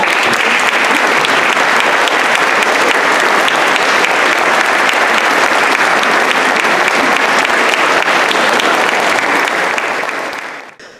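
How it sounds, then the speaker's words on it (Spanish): An audience at a municipal symphony orchestra event claps in loud, sustained applause that fills the room, then quickly fades away at the end. "Un aplauso, por favor."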